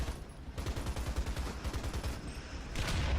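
Machine-gun fire in War Thunder chatters steadily throughout as a continuous rapid rattle, fairly loud and unbroken, with no talking over it.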